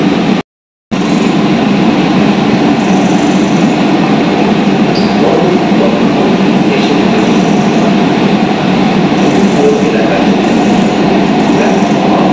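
Kolkata metro train running between Kavi Subhash and Ruby stations, heard from inside as a steady loud rumble of wheels and motors with rail hiss, continuous throughout after a brief dropout near the start.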